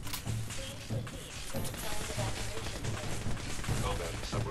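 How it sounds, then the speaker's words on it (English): Shotgun blasts in the video game Fallout 4, firing in repeated heavy bursts amid other combat noise, with someone talking over the action throughout. "you don't just run in front of me when I'm shooting a shotgun"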